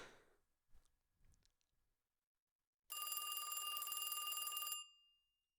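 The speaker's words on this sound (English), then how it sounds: "Karl, the phone's ringing." A telephone in the game A Very Pilkington Christmas rings with one steady, bright electronic trill lasting about two seconds, close and loud, after a few faint soft sounds.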